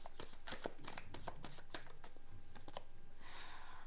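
Tarot cards are shuffled by hand in quick, crisp riffling bursts and soft flicks, close and fairly quiet, followed by a brief papery slide as cards are drawn.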